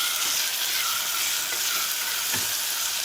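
Curry leaves and tomatoes fry in a pan with a steady, loud, close sizzle and crackle that runs unbroken throughout, with faint stirring touches.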